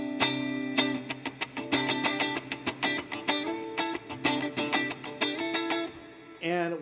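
Electric guitar plays a major 7 chord in quick rhythmic strums. The other strings are muted and smacked, giving choppy percussive clicks between the ringing chord hits, with a short slide at the end.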